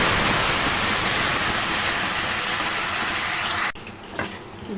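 Tomato paste made from two tomatoes goes into a few tablespoons of hot oil in a kadhai, producing a loud, continuous hiss that cuts off sharply near the end, leaving faint scattered spatters.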